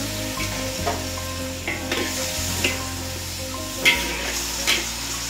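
Pork adobo, made with Sprite and a splash of cooking caramel, sizzles steadily in a pan while a low hum runs underneath and a few stirring clanks sound.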